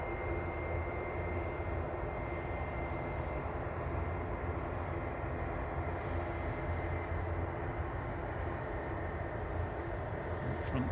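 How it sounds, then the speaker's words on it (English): A propeller aircraft on its takeoff roll at Manchester Airport makes a continuous, loud, steady engine roar with a droning hum, heard throughout with no pauses. "Front propeller's spinning away now."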